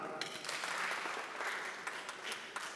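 Audience members clap together to vote for a fake-news statement they believe true, a steady wash of many hands lasting a few seconds with no talking over it.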